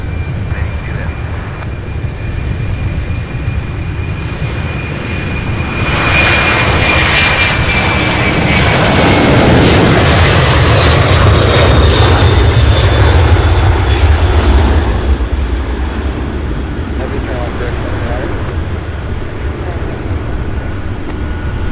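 MD-11 jet engines at an airport ramp during a pushback and taxi, a loud sustained roar swelling to a broad rumbling peak midway, then easing to a steady whine, with faint radio chatter.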